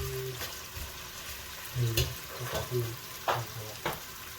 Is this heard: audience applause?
no